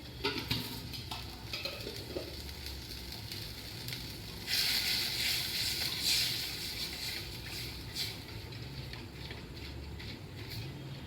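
Spicy Gujarati dhokli curry seasoned with turmeric, salt and sugar boils in a pot, giving a steady close bubbling hiss that swells louder midway and continues with faint clinks.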